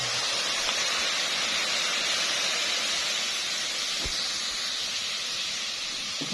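Boiling water from a kettle poured over toasted, browned vermicelli in a pot for yellow lentil soup, giving a steady, close, broadband steamy hiss and rush that holds evenly throughout, with no talking.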